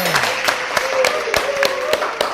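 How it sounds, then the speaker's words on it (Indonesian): Scattered, distinct claps at an informal talk show, a handful of sharp hits spaced across the moment with a faint tonal hum and background murmur underneath. "Tepuk tangan."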